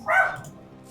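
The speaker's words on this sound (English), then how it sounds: "That's my dog freaking out because somebody is getting in close proximity to something the dog cares about." Pet dog barking indoors, a single short agitated bark-yip, moderately loud and close, alone without speech.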